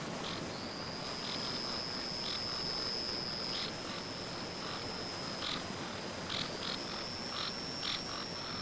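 Frog calls in a natural outdoor setting make a steady, high trilling chorus with short repeated pulses over continuous background ambience, with no talking.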